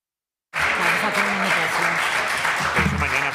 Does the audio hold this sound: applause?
yes